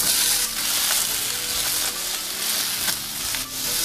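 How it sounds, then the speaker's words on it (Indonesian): Chayote hits hot oil with garlic and ginger in a pan, giving a loud, steady stir-fry sizzle with intermittent scraping strokes, close up and continuous. "Tumis kurang lebih harum, lalu masukkan labu siam."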